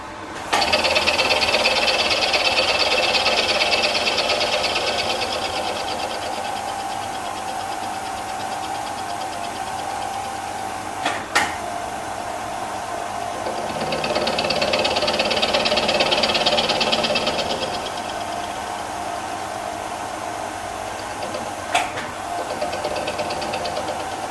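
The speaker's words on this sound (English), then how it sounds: "I can come in bore this hole" A cutter bores a hole in a cast part for a 1905 Hornsby engine, giving a steady machining drone with a whining high-pitched cutting band that swells twice. Two sharp clicks punctuate the continuous sound, and no one speaks.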